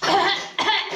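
A person eating bhaji coughs twice in quick bursts at close range, harsh and loud, with a brief gap between the two coughs.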